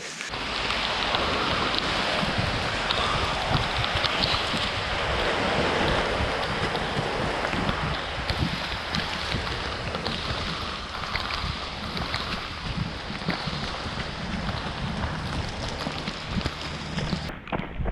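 Torrential rain hammers down during an outdoor run, a loud, unbroken wash of rain with wind and jacket rustle close to the microphone.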